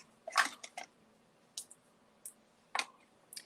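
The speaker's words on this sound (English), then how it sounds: "I am going to grab my mini Stampin' Cut and Emboss machine here, and I'm going to cut" Mini Stampin' Up Cut and Emboss machine cutting a thin paper circle: a few faint, sharp clicks and crunching snaps spaced irregularly, close by in a quiet room.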